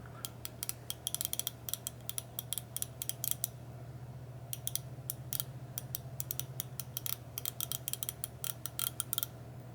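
A Wright 17 mm ratchet clicks in fast, sharp bursts of metallic ticks, with pauses between runs, over a steady low hum in a workshop.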